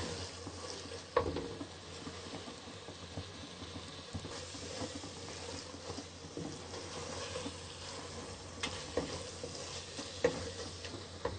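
Turnip sabzi (shalgam) roasts in a pan with a soft, steady sizzle, while a spoon stirs and scrapes it with faint, irregular clicks and taps throughout.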